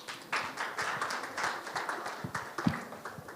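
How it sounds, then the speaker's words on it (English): Audience applause at a business seminar in Manzini, a short burst of scattered clapping from a crowd filling the room. "Maybe we can give them a round of applause."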